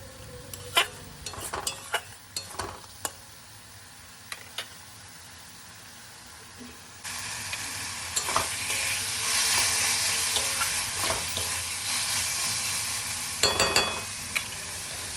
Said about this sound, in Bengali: টমেটোগুলো একটু কষিয়ে নেব যাতে কাঁচা গন্ধটা চলে যায়